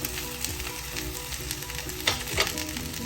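Okra and onion frying in a pan give a steady, close sizzle with light crackle throughout, plus a couple of brief louder scraping bursts from stirring.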